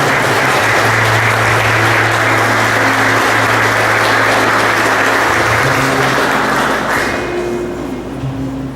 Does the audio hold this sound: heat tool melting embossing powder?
no